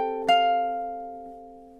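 Ukulele chords from a gentle lullaby, with a chord ringing out, then a second soft strum that sustains and slowly decays, played close and alone.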